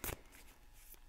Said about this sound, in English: Oh, I'm shuffling it backwards.